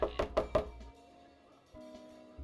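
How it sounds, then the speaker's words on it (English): A quick rhythmic secret knock on a door in Norco, four sharp close raps in a row, then quiet room tone with a faint thump. "That was the secret knock."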